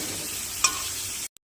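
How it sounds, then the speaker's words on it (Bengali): Ginger-garlic paste with ground cumin and coriander paste sizzles in a pan over medium heat as it is stirred, with a steady close frying hiss and one brief scrape before the sound cuts out abruptly. "মশলাটা ভাজা হয়ে গেছে প্রায়"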